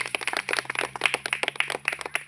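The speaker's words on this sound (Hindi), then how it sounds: "तो एक बार जोरदार ताली हो जाए आप सभी के लिए।" Audience applause at an RCM India gathering, a brief burst of dense, steady hand clapping from a crowd, fairly close and alone.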